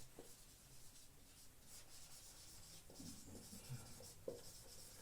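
Notes are written by hand during a geography lesson, a soft pen or pencil scratching and rubbing on paper, faint and close, in short irregular strokes with small taps.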